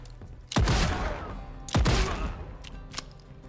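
Two loud, close gunshots in the Legend of California video game, each a sharp crack followed by a decaying rumble, spaced about a second apart over a faint background bed.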